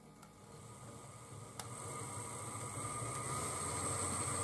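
A Trix Ludmilla model locomotive running in a pulling test, a thin whining motor hum with faint rolling rail noise, steady and growing slightly louder, quiet and close without talk.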